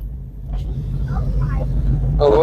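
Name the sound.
car driving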